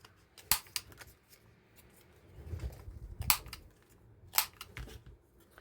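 A corner rounder punch trims the corners of cardstock with three crisp snaps, well spaced and close, set against a faint soft rustle of handling and no speech.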